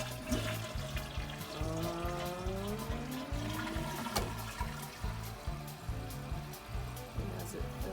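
A toilet being flushed during a repair of a running toilet: rushing, gurgling water swirls steadily through the bowl with a pulsing, churning rhythm, close and moderately loud throughout.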